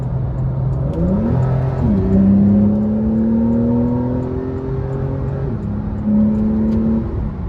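A 2018 Porsche 911 Carrera 4S with its 3.0-litre twin-turbo engine accelerates hard on an interstate, its engine note climbing steadily through the gears with brief dips at shifts, loud and continuous from inside the cabin.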